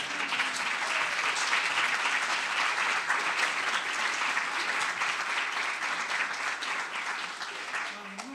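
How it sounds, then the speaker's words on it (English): Sustained applause from a large audience at a keynote lecture, a dense steady wash of clapping that fills the whole stretch and tapers slightly at the end, with no talk over it. "So let's have another round of applause for Dean Hempton."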